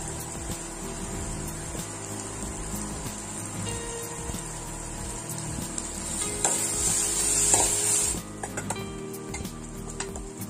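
Onions and tomatoes sizzle steadily with chili powder in a hot pan for a kaju paneer masala, with occasional stirring scrapes; a sharper hiss rises briefly near the end.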